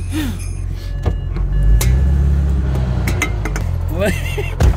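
A BMW car engine on solid mounts idling with a low, steady rumble, close by, while a person talks over it and something clinks briefly.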